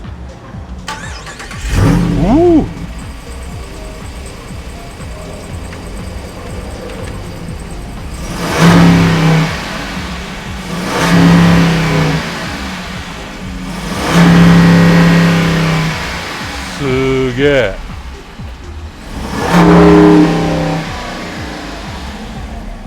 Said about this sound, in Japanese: ブレーキ踏んでいただいてこのプッシュスタートでエンジンかけてみてください。